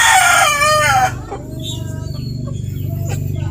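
A Bantik rooster lets out a loud, close crow that trails off after about a second, followed by softer clucking over a steady low hum.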